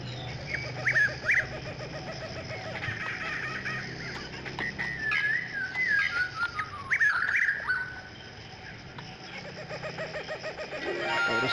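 Bird calls chirp and whistle through the Africa jungle level of the Barbie Explorer video game, short bright tweets in bursts over a steady game background, with no talking.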